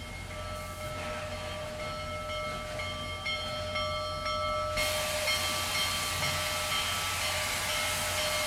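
A steady hiss of steam with the distant rumbling Union Pacific Big Boy 4014 steam locomotive pulling onto a second main track, which swells into a louder, broader rush of steam midway through.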